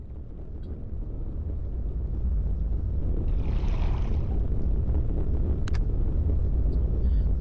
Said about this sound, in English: So, this is making the sound of, I don't know, underground lava, it sounds like.